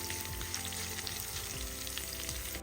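Steady, close sizzling of garlic frying in hot oil, a continuous crackle with occasional soft stirring scrapes, no voices.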